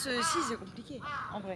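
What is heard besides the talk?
crows cawing in Tokyo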